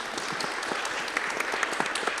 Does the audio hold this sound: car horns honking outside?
no